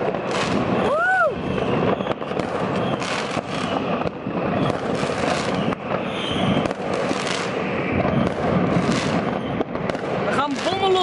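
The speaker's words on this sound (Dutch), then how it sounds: "We gaan bommen los hier zo" Fireworks and firecrackers burst repeatedly outdoors on New Year's Eve in the Netherlands, with sharp cracks, booms and whistling rockets piling up in a dense barrage, while people nearby shout and talk over it.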